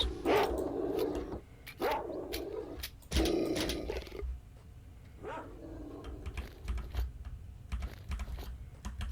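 A dog barks in the STALKER: Shadow of Chernobyl Enhanced Edition video game, several sharp loud barks in bursts followed by quieter yelps, with clicking sounds in between.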